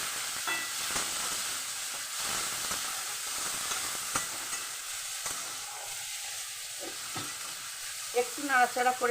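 Tomatoes and chopped green chillies fry in a pan for egg tadka while a utensil stirs and scrapes steadily under a constant close sizzle, with a few louder clatters near the end.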